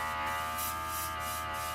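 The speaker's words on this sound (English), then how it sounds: "Okay, I'm gonna turn on the vacuum." A small vacuum or spray booth extractor hums with a steady, faint electric buzz, used while airbrushing a Monogram 1939 Mercedes 540K scale model.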